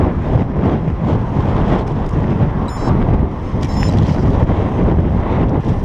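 Strong gusting wind roars steadily into the microphone during a night bicycle ride on a Cannondale F4000sl mountain bike, a loud continuous rush with no voices.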